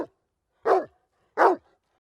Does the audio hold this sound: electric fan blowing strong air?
no